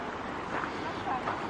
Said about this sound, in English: I don't know if you can hear the sound of the water.